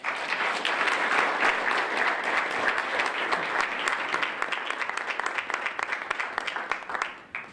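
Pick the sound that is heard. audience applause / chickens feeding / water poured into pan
audience applause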